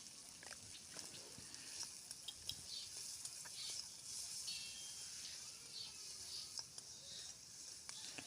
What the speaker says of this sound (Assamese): এইটো অকণমান সিজালৈকে ভাজিম মানে।